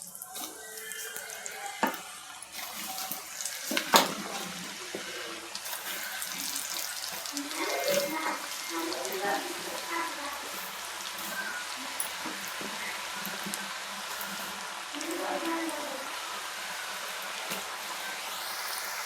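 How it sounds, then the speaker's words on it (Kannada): French fries coated in cornflour frying in hot oil, a continuous close, bubbling hiss with crackles that swells early and then settles into a steady sizzle. "ಎಣ್ಣೆ ಕಾದಿದೆ. ಇವಾಗ ಫ್ರೆಂಚ್ ಫ್ರೈ ಹಾಕ್ತಾಯಿದ್ದೀನಿ."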